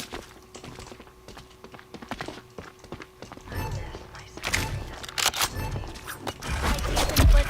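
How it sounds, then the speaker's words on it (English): Footsteps in the first-person shooter game FragPunk, a run of quick, hard clicky taps that grows busier and louder toward the end, mixed with other game sounds. "I hear some footsteps,"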